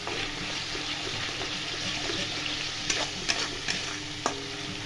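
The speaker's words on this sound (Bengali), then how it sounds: "এবার ভালো করে মশলাটাকে আমি কষিয়ে নেবো তেল ছাড়া অবধি" Spice masala with salt and a little sugar frying in oil for a catering-style broiler chicken curry, a steady close sizzle punctuated by a few distinct clinks and scrapes of stirring.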